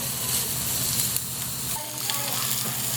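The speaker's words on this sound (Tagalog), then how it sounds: "gisa-gisa natin yan hanggang maging brown or maging translucent naman yung sibuyas" Onion and garlic sautéing in a hot pan, a dense steady sizzle and crackle of frying with occasional stirring scrapes, close and continuous with no talking.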